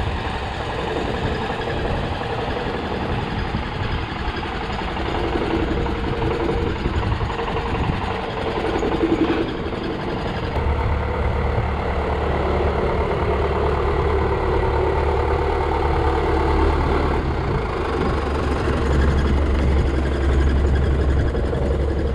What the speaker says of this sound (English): back the tractor out, back it up to the slasher